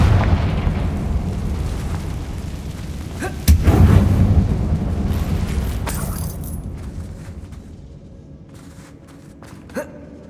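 A fire spell bursts into an explosion in the Hogwarts Legacy video game, a loud boom near the middle over a dense rumbling game soundscape, with a few sharper blasts and impacts fading toward the end.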